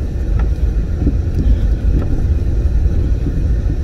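A 1998 Ford Explorer with about 180,000 miles runs down a street on a test drive, its engine a steady, loud low rumble mixed with road and wind noise throughout, no talking.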